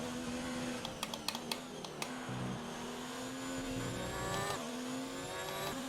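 Formula 1 car engine in F1 2020 during a race, a continuous screaming whine with rapid upshift clicks early on, pitch dropping and climbing again as the car brakes and accelerates.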